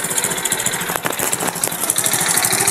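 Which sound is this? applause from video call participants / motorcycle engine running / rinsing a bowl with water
motorcycle engine running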